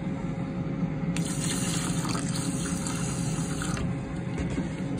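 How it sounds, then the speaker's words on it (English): Tap water running steadily into a cooking pot to a measured line, with a brighter splashing layer coming in partway through, close and continuous. "And then I'm gonna fill up the water to that"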